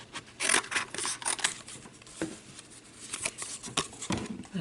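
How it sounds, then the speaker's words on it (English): Close, crisp snips of scissors slicing through paper, coming in irregular bursts with brief pauses between cuts. "I'm going to take my scissors"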